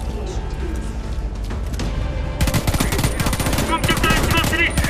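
Rapid automatic gunfire from the video game Homefront: The Revolution bursts in loudly after a stretch of softer in-game ambience, firing in a dense, continuous rattle of shots.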